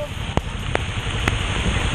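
Steady rain patter and hiss fills the background, with a few sharp drip-like ticks standing out.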